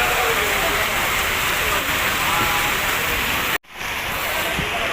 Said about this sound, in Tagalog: Ang lakas talaga ng ulan guys.